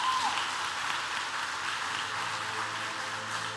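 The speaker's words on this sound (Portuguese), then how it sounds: "Se é para Ele, aplaude mais forte." Church congregation applauding harder, a faint, distant, steady patter of many hands filling the room with no voices standing out.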